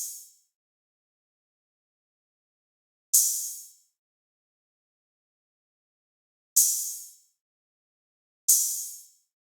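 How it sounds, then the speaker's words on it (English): Open hi-hat in a trap beat, sounding alone as four bright, sizzling hits with short decays, irregularly spaced and separated by silence. "I added a open hat that will sound like this"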